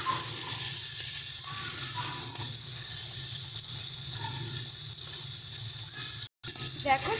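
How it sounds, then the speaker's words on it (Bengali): Shrimp frying in oil seasoned with salt and turmeric gives a steady, close sizzle and hiss that runs throughout, with a brief dropout near the end. "সামান্য পরিমাণে লবণ আর একটু হলুদ দুটো দিয়ে একদম ভালো করে এটাকে ভেজে নেব।"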